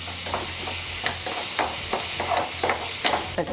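Onions dropped into hot oil and stirred in a pan for ragi mudde with egg bhurji, a steady sizzle broken by rhythmic scraping clinks of a spatula, close and alone.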